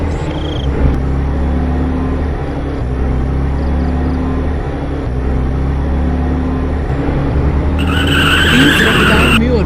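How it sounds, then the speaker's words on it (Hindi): A cartoon car comes racing in at speed on an empty road at night, its engine rumbling steadily and loud, ending in a sharp, bright tire skid near the close, with a voice talking over the noise. "तभी सामने से एक गाड़ी आती है।"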